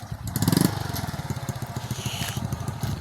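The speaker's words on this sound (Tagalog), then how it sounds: "Motor" Motorcycle engine running nearby, a loud revving burst early on settling into a rapid, throbbing putter with steady pulsing beats.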